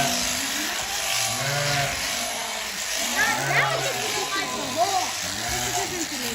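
Sheep bleats ring out during shearing of a New Zealand Romney, several wavering calls rising over a steady electric shearing-handpiece buzz, with people talking nearby.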